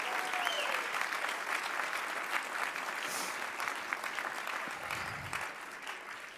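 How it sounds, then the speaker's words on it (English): Audience applause fills the hall at the 2022 Vanderbilt Athletics Hall of Fame induction ceremony, a steady, dense roar of many hands clapping that holds throughout at moderate level. "So can we give them all a round of applause?"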